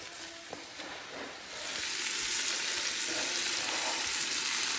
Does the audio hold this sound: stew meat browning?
yes